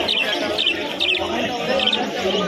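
A dense flock of pigeons for sale in pairs at the Mede pigeon market in Bongaon: constant overlapping chirps and calls over a loud, busy market din.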